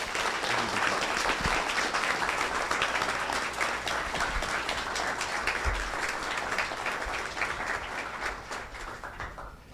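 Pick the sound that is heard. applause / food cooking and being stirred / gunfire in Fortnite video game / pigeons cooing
applause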